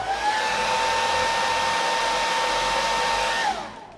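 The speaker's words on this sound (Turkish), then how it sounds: "Tekrar fön makinesi." A hair dryer blows steadily and loudly on a bicycle during cleaning and protective treatment, a continuous close whine and rush of air that holds for several seconds before cutting off.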